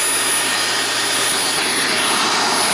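A Dyson DC24 lightweight upright vacuum cleaner running with its hose drawing suction, a loud, steady, close rushing whine of airflow and motor with no pauses and no voices.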